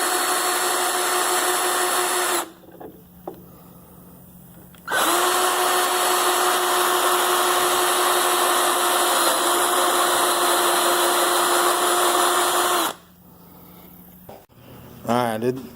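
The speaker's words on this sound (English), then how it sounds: "then start drilling, but don't drill to the point where your hole saw cuts a hole in the top of this wing" A power drill with a hole saw cuts through a rear wing on a Hyundai Veloster, a loud steady whine running for long stretches with short pauses between cuts.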